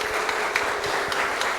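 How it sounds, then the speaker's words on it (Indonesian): Church congregation applauding during a service, a dense steady patter of many hands clapping together, moderately loud and continuous for the whole short stretch. "kita beri tepuk tangan saudara sekalian ya"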